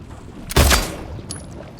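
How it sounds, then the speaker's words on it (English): A single loud gunshot fires in the Silent Hill 2 Remake video game, a sharp blast with a short booming decay, followed by a faint metallic tick a moment later. "The gunshot was super loud."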